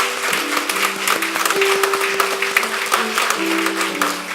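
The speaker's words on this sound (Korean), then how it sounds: "네, 박수로" A church congregation applauds after a deacon's ordination at a revival service, with steady, moderate clapping filling the room over sustained musical tones.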